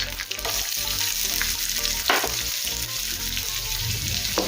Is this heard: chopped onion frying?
yes